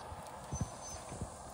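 Hoofbeats from a horse in a riding lesson, a few clear clip-clops at an uneven pace, fairly close over a quiet background without talk.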